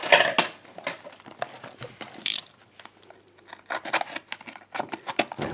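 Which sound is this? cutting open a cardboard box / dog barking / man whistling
cutting open a cardboard box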